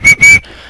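A person whistles two loud, sharp blasts, each about a tenth of a second long, close by, followed by a faint fade.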